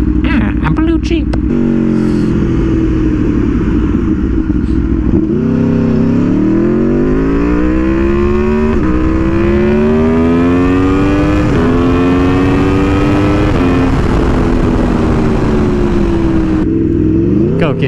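A V4 motorcycle engine revs loud and close, its pitch climbing in repeated sweeps and dropping between gear changes while the bike accelerates hard.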